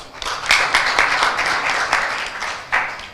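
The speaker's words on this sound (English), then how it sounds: "Can we applaud her once more?" An audience at a Ministry of Health World Contraception Day forum applauds a speaker, the clapping steady and fairly loud throughout with a few sharper swells.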